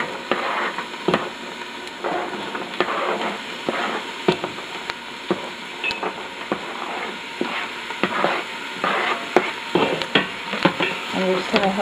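Carrots and celery sautéing with softened onions in a pot for split pea soup, a steady close sizzle broken by frequent scraping stirs and clinks of a utensil against the pot, with no voices.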